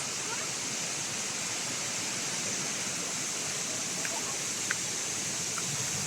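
Steady roar of a waterfall near Trabzon, Turkey, a continuous broadband rush close by and unbroken throughout, with faint voices barely audible beneath it.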